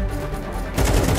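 A Counter-Strike 2 headshot during a competitive match: gunfire bursts in sharply partway through after a low rumble of game background, loud and abrupt.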